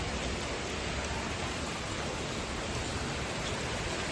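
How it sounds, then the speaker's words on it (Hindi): Steady rain falls in a dense, even hiss with no breaks or voices, continuing through the night after a storm. "बारिश पड़ रही रात से।"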